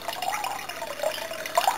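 Water trickling in a small homemade water feature, a steady thin flow with a few brighter splashy bubbles near the end, close and fairly quiet.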